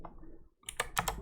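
Several quick keystrokes on a computer keyboard, clicking close to the mic after a brief pause, with low background noise before them.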